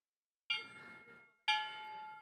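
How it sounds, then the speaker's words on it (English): A gong struck twice during a timed tower-building game, each hit a loud metallic clang with a long ringing decay, about a second apart, with no talking. "it's exactly the time, so I'll put the gong"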